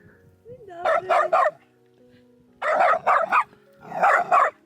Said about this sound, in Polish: Taki mały piesek na ciebie szczeka.